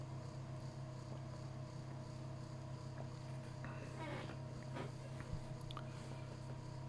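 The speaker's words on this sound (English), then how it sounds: "you could probably hear my computer whirring very loudly because I has to load this update" A computer whirs steadily while loading an update, giving off a constant mechanical hum with a faint fan drone and a few small clicks, close by and with no talking.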